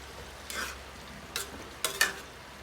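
Pork and cabbage stir-fried in a pan, heard as a few short scraping, sizzling bursts of a spatula tossing the food over a quiet, steady background, with no talking.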